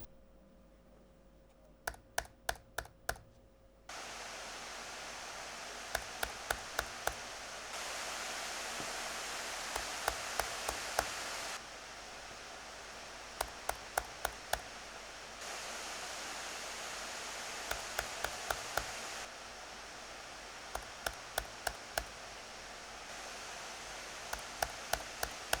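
Aorus 16X gaming laptop fan whirring as a steady broadband hiss that steps between louder and quieter levels, with bursts of keyboard typing clicks recurring throughout; no voices.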